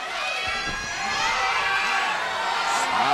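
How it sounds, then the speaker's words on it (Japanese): Broad crowd roar fills a professional wrestling arena during a NOAH heavyweight bout between Kenoh and Atsushi Kotoge, with cheers for both men swelling steadily and staying loud throughout, no voices standing out alone. "両者に対する歓声が交錯しております。"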